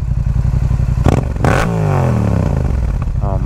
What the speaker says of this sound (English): if you just stay in half throttle, this bike is so comfy to ride